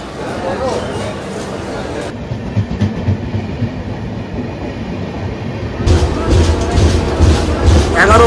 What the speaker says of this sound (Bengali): আর উলবিয়ার থেকে কিন্তু ট্রেনটা ছেড়ে দিল